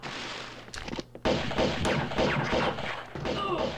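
Pistols fire in Tomb Raider 2 (1997) in loud, fairly close sharp reports, with quick shots and thuds breaking up a noisy, busy stretch of action.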